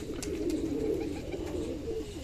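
Domestic pigeons in a flock that has had illness coo in low, rounded murmurs, several birds overlapping steadily and close by, with no talking.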